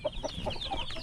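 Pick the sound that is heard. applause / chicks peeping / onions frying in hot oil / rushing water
chicks peeping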